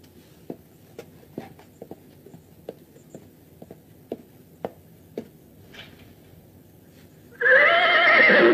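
A horse whinnies loudly and close at the end, a sudden burst after several soft, scattered ticks and taps in a quiet room, from a 1936 classic romantic film.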